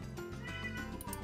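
A house cat meows close by, one drawn-out, slightly pleading cry on its own.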